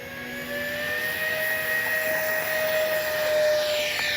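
E-flite A320 neo RC jet flying overhead, a steady high electric ducted-fan whine that holds a constant tone and swells slightly toward the end, continuous and fairly loud without speech.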